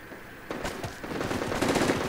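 A PKM machine gun firing in the video game Project Reality, a couple of quick bursts of rapid shots that sound somewhat distant and fairly loud, with no talking.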